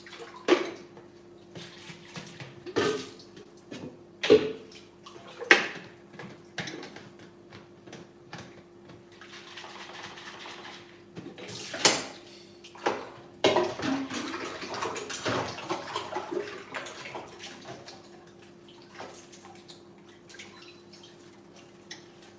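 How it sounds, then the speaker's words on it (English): Water runs and splashes while a blender is rinsed out in a home kitchen after making almond and green banana porridge, with intermittent clunks and knocks of the jar against the sink over a steady faint flow. "I'm going to wash out my blender because I don't want the banana stain to stick."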